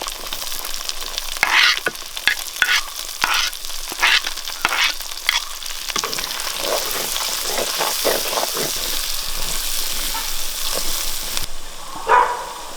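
Shallots, curry leaves and ginger-garlic paste sizzle in hot oil for a spicy chicken kondattam, with a steady frying hiss broken by repeated scraping stirs of a spoon against the pan.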